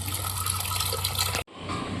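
Water pours steadily into a pot of salted peas set for boiling, a loud continuous splashing rush that breaks off briefly and then resumes a little softer.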